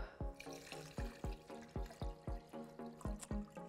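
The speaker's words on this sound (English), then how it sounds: "So pop some of the Elodea in here and pour our solution on top." A liquid carbon dioxide solution is poured over Elodea pondweed in a container, giving a rhythmic series of about ten gurgling glugs, close and fairly loud, with no talking.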